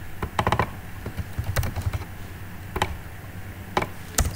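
Computer keyboard typing in short bursts of clicky keystrokes, close and moderately loud, with pauses between bursts.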